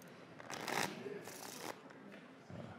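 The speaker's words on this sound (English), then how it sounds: "Shuffle them up." A deck of playing cards is shuffled in a couple of quick riffling bursts close by, soft and brief, followed by a short faint rustle at the end.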